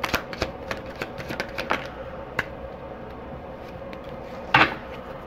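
Tarot cards shuffled and drawn for a reading, a string of crisp paper flicks and snaps in uneven bursts, fairly close, with a louder rustling flurry near the end and no talking.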